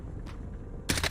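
Sniper rifle with a red dot sight fires one sharp, loud shot in a video game; the burst comes near the end after a stretch of quiet background.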